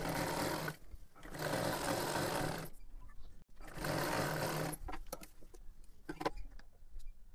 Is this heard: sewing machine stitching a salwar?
yes